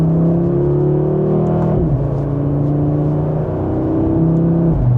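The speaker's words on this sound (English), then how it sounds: "And just with a minor acceleration, that definitely sounds really good." A 2026 Audi RS3 accelerates in second gear, its exhaust giving a loud, close droning engine note that climbs in pitch, dips at a shift, then rises again.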